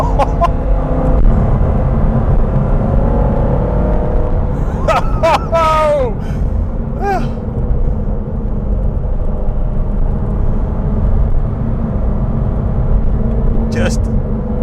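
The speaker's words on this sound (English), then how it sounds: "Just listen to it. Just let it rev." A Lancia Delta rally car's engine holds a loud, steady roar throughout, with a few sharp rising rev bursts partway through and another near the end, while a voice talks over it.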